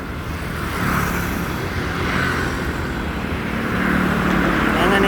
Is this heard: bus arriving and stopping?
yes